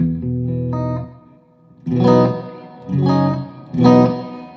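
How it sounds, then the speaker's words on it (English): Guitar notes ring out through heavy reverb, one sustained chord followed by three struck hits, each tail washing out long and spacious. "if I turn this reverb way up, this is kind of fun"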